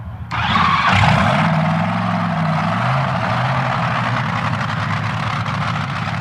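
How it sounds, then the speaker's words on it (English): A powerful Top Fuel dragster engine fires up abruptly at a Top Fuel final and settles into a loud, rough, throbbing idle, close by and continuous. "The engine in Jeb Allen's dragster comes to life"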